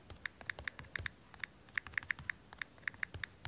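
A password is typed on a computer keyboard in a quick, uneven run of crisp key clicks, close and clear over a faint steady hum, with no speech.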